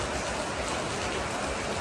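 Rain pours steadily outdoors on a very wet day at a Newcastle LEGO fan convention, a dense, even hiss of drops that is moderately loud and continuous, with no voices over it.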